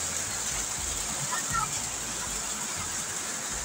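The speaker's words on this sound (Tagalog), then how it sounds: "Lakas ng ulan dito sa amin" Steady, dense rain pours down in a constant broadband hiss, close and fairly loud, with no break throughout.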